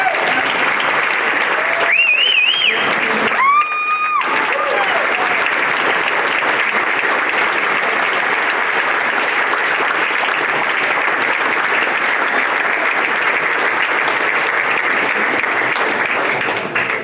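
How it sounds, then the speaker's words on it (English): Steady, dense applause fills a hall for the 1982 South Central Jersey softball champions at an athletic hall of fame ceremony, with voices calling out near the start and clapping continuing loud and unbroken throughout. "please give a round of applause for the"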